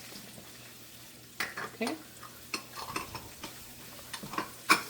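Garlic and onions sauteing in a pan, with a soft sizzle under a few sharp clinks and scrapes of a utensil against the pan; a voice speaks one brief word.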